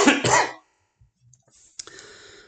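A person with a lingering cough after COVID coughs twice in quick, loud succession close by, then goes quiet, with faint background sounds following.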